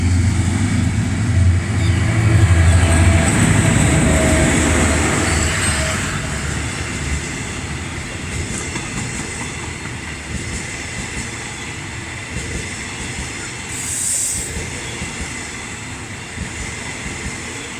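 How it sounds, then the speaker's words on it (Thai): A Hitachi locomotive, number 4513, hauls the Thaksinarath special express train 31 from Bangkok to Hat Yai, a loud continuous rumble and wheel roar that peaks early and then steadies as the train rolls past close by. "วันนี้เราก็จะมาดูขบวนรถด่วนพิเศษทักษิณรัฐที่ 31 กรุงเทพชุมทางหัดใหญ่นะครับ เป็นรถซีนานะครับ ฮิตาชิหมายเลข 4513 นะครับ"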